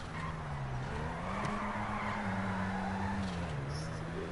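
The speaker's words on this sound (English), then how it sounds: "stancing makes it so easy to slide that a lot of the time you don't even really need a handbrake" A lowered, stanced car drifts in GTA Online, its tires skidding and squealing continuously over a droning engine, steady and fairly quiet, with someone talking over the game sound.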